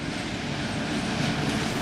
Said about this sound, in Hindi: नीचे धधक रही आग के ऊपर पटरियों पर दौड़ती रेल।